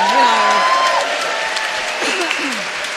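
Large audience at a political rally in a hall cheering and applauding, a dense, steady wash of clapping with scattered whoops and shouts throughout.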